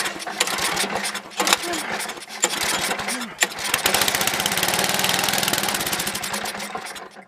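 An old snowblower's small engine sputters and catches unevenly, then settles into a steady, rapid, buzzy run, loud and close, with a voice briefly audible early on.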